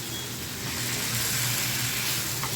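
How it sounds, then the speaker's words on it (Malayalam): Chicken frying in ghee in a pan gives a steady, fairly quiet sizzle while being stirred, without speech. "ഇടയ്ക്കിടയ്ക്കൊന്ന് ഇളക്കിക്കൊണ്ടിരിക്കുക"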